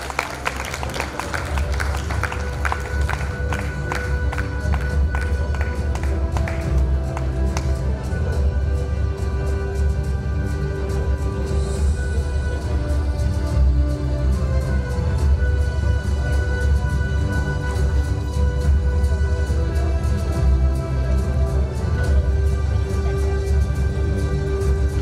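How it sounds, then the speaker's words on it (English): Crowd applause for Delhi Public School, Panipat at a school felicitation ceremony, sustained clapping from a large audience over steady background music lasting the whole stretch. "A huge round of applause for Delhi Public School, Panipat."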